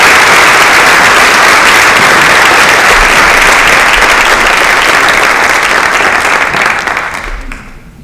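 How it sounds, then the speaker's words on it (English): An audience at a school award night applauds loudly and steadily in a big room, a dense sustained wash of clapping that fades out over the last second or so. "Please give another round of applause for Jana Bruno."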